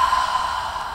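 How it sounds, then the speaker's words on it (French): A single audible exhale through the mouth during a morning body-awakening flow, close and breathy, lasting about a second with no talking. "On expire par la bouche."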